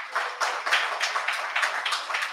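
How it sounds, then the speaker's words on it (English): An audience claps for a speaker at a Democratic Labour Party Independence Lecture, a steady patter of hand claps at moderate distance with no voices over it. "while you're applauding"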